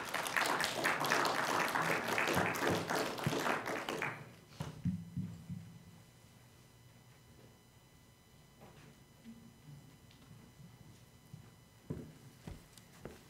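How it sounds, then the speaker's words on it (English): Applause from a church audience welcoming a speaker named Ben to the stage; a loud round of clapping runs for about four seconds and then cuts off, leaving a quiet room with scattered thumps and footsteps. "give a warm round of applause for Ben as he comes up"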